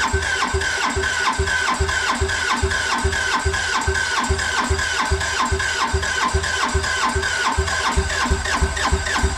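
Car engine cranking over and over on a jump pack after fuel priming, a rapid rhythmic churning of starter strokes that never catches, loud and close throughout.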